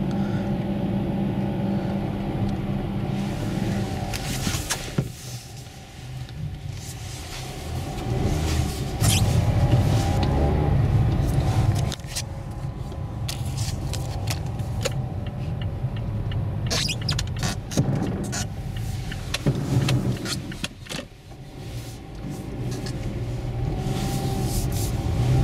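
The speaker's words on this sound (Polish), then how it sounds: "Tutaj ostra górka dosyć, zobaczymy czy Mazda ruszy." A Mazda car on Vredestein Quatrac Pro tyres pulls away up a steep snowy hill, its engine rumbling steadily throughout with shifting load and occasional crunching, scraping bursts from the tyres and snow, and no talk.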